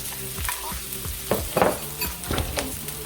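Pimento pepper hits a hot pan with a bright sizzle, and a spoon stirs it in a series of short scraping strokes over steady close frying, with no talk.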